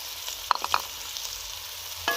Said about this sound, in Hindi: इनको हमने 1 से 2 मिनट भून लेना ताकि लहसुन अदरक का कच्चापन जो है वो ख़त्म हो जाए।